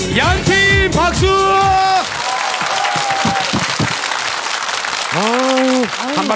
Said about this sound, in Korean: 양팀 박수